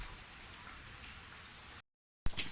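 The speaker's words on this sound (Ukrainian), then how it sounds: "І того у нас дощит цілий день." Steady rain patters and hisses on a surface, then cuts to a brief silence before a short burst of noise.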